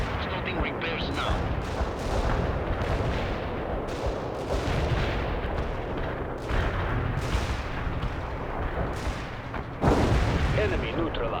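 Continuous battlefield gunfire, artillery blasts and explosions in the World in Conflict strategy game, loud and dense throughout, with a heavy boom near the end; shouted radio voices come through under the combat.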